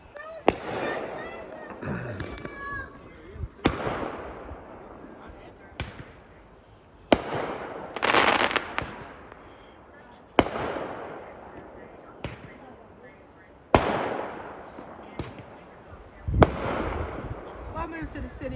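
New Year's Eve fireworks burst outdoors in the countryside as a series of sharp booms and crackles every second or two, some louder and nearer than others, with echoing tails between them.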